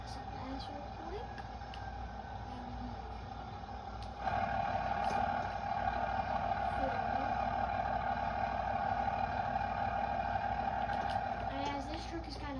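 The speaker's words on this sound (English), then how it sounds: "As this truck is kind of hard to start, so I'm just gonna leave it running." A pickup truck set up for drifting idles, its engine droning steadily throughout; partway in the sound steps up louder with a tonal hum, and faint voices are heard in the background.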